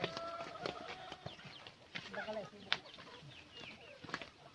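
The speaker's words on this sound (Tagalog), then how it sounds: "That's a chicken" Backyard native chickens in a farm breeding area cluck and squawk in short, scattered calls, fairly faint, mixed with light rustling and other soft farmyard noises.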